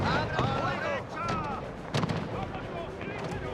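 Artillery cannon fire on a snowy winter battlefield in Pike & Shot Total War, with heavy booming blasts repeating irregularly over a dense, continuous din of distant battle and faint voices.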